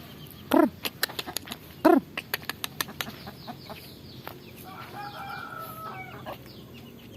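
Chickens cluck in a village yard, with two loud crowing calls from a nearby rooster early on, followed by a busy stretch of clucks and softer bird calls before the yard settles into a steady hum.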